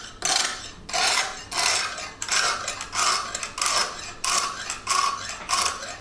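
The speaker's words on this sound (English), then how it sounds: "Instructions say you always sharpen into the blade, working in a sort of 2-inch sections." Kitchen knife drawn through a fixed-angle sharpener in repeated short strokes, about eight rasping scrapes in steady rhythm, close and fairly loud, no voices.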